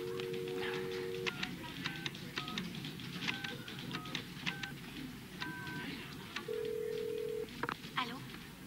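A hospital telephone is dialed, with a steady dial tone at the start, then a series of short, evenly paced keypad beeps, the tone returning near the end, all fairly faint against a background hum.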